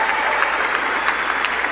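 Audience applause fills the whole stretch, a steady dense wash of many hands clapping at close range with no talk over it.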